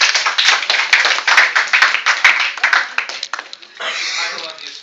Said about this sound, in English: warm round of applause for Val.